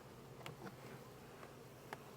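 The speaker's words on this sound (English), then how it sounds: "I don't know how these bees are getting into this feeder." Bees around a hive feeder in spring, a faint steady buzz with a few brief louder passes close by.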